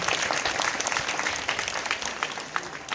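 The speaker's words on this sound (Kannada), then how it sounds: "ಅವರಿಗೆ ತಾವೆಲ್ಲ ಜೋರಾದ ಚಪ್ಪಾಳೆಯನ್ನು ತಟ್ಟಬೇಕು" A crowd at a Hanuman temple fair applauds, dense continuous clapping at a moderate distance, fairly quiet and unbroken throughout.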